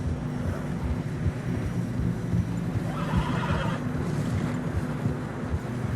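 Horses trudging through deep fresh snow in the Red Dead Redemption 2 video game, with a steady rushing, wind-like bed of noise and low thuds throughout, and a brief whinny-like sound in the middle.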